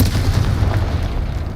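A Confringo fire spell in Hogwarts Legacy goes off as a short, deep booming blast that rumbles loud and close before fading.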